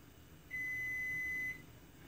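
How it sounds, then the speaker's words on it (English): A single electronic beep from a microwave oven switching on rings out for about a second over a quiet room hum, clear and steady in pitch. "what you're gonna hear in the background is a little beep. That's my microwave coming on"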